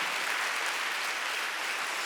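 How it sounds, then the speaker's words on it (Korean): A church congregation claps together during a sermon, a dense, steady wash of applause from many hands that holds evenly throughout without any voices. "박수하세요."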